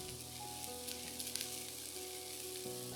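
Dried shrimp and soy sauce going into cabbage stir-frying in a hot pan, a continuous loud sizzle with a few crackling bursts, steady throughout and close, with no talking.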